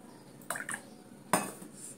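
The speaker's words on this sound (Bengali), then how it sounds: "চলো, এবারে কড়া চাপিয়েছি" A metal kadai (wok) is set down on a kitchen stove, making a few sharp metallic clanks and clatters, two quick knocks followed by a louder clunk, close by and without speech.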